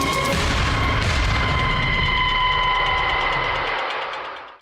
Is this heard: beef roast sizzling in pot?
no